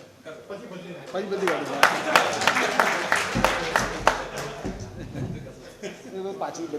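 Scattered audience clapping at a tax conclave, sharp individual claps in an uneven burst that thins out, with talking mixed in.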